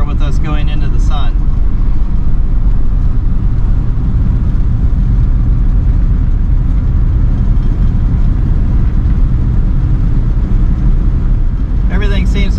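Classic car that had sat unused for a long time, driving on the road into the sun: a steady, loud engine and road rumble from inside the cabin, continuous throughout with brief faint voice-like sounds near the start and end.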